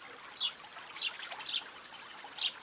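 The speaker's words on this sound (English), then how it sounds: "the water should get clear when I pour this mixture" A liquid mixture trickles and splashes into a lake in a cartoon scene, a few brief bright pours in irregular spurts over a soft watery background, close and without speech.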